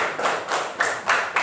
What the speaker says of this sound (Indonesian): Bapak minta tepuk tangan dulu atau buat Ibu wali kelas kalian